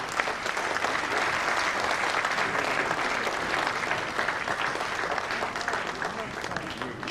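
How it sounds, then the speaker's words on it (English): A crowd claps continuously and evenly for a guest speaker at an assembly, for several seconds, dense and fairly loud, with no voices standing out. "That applause for the guest speaker can come even louder than that"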